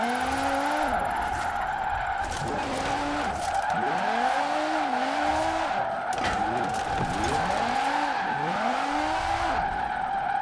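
A car sliding in Forza Horizon 4, tyres squealing in repeated wavering arcs over a steady engine drone, loud and close, with the screeches rising and falling through several drifts.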